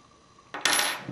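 A small cyclone feed part from an X7 Phenom drops out after being unscrewed, landing with one bright metallic clatter against a hard surface after a faint lead-in.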